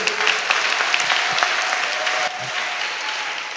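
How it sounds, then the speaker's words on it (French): Church congregation applauding loudly and steadily for the whole stretch, a dense wash of clapping with a slight dip near the end and no talk over it. "Il faut acclamer"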